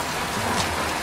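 Hail and heavy rain fall outside in spring, a dense, even wash of pattering that fills the space with continuous hiss and no voices.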